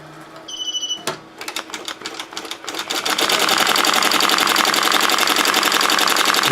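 An embroidery machine stitches an appliqué onto a shirt, starting with a few isolated clicks and short bursts before settling into a rapid, steady, loud mechanical chatter of needle strokes.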